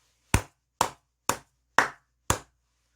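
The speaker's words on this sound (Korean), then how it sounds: "크게 박수 한번 치고 가도록 하겠습니다." Five sharp hand claps spaced evenly about half a second apart, each crisp and close, with silence between them.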